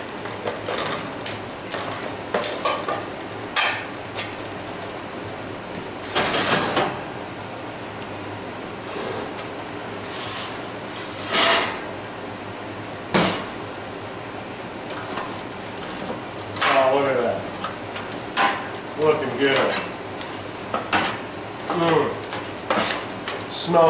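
Beef bones clatter and scrape as they are turned in a metal roasting pan, a run of close, loud metallic clanks and knocks in irregular bursts, with faint sizzling beneath.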